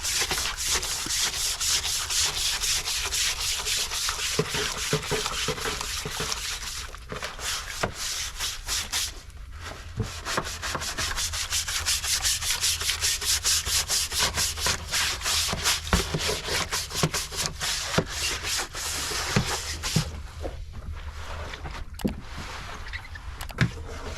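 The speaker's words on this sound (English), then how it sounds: "I'm gonna have to scrub that down back to a pretty clean black surface" Steady, rough scrubbing rubs a black surface in fast continuous strokes, loud and close, with brief pauses and scattered clicks, no talking.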